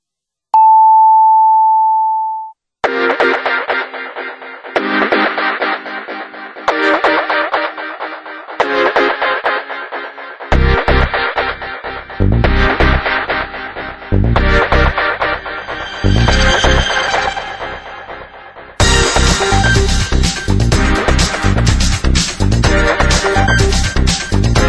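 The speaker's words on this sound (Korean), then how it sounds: "최현성 씨 전화" A telephone dial tone, a steady electronic tone, holds for about two seconds before loud, dense music begins and carries on through the rest.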